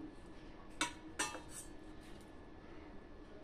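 Utensils clink against a plate and pot as thin mutton curry is served, two or three sharp metallic taps close by, followed by quiet handling.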